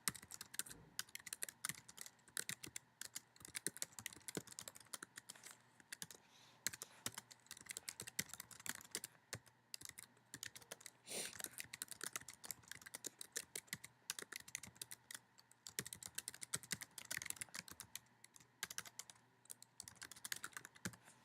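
Rapid, steady keystrokes on a computer keyboard while typing a footnote into a Word document, fairly quiet and continuous for about twenty seconds with no talking.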